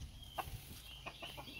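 Chickens on a homestead cluck softly at a distance, a few short scattered calls over a quiet, steady outdoor background.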